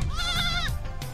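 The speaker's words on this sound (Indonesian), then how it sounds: "juga punya puluhan kambing" Goats kept as livestock by a Muslim family in rural Mongolia let out a loud, wavering bleat up close, followed by a shorter second cry.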